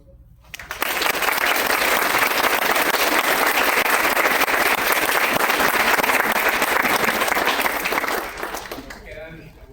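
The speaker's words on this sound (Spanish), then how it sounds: "Pido un aplauso." Sustained applause from an audience at a rural education research event in Chihuahua, rising quickly, holding steady and loud for about eight seconds, then tapering off.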